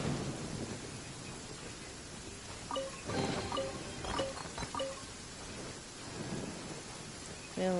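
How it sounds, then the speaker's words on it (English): Heavy downpour with rolling thunder in Genshin Impact's Inazuma region: steady rain hiss throughout, with thunder rumbles swelling around the middle, fairly quiet overall. "Taking a stroll in the middle of a downpour certainly rouses the spirit."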